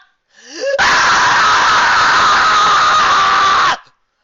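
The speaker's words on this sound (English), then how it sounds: "Trixie woke up screaming, covered in cold sweat, her heart racing." A woman screams long and loud as she wakes from a nightmare, a single sustained cry after a brief gasp, close and alone.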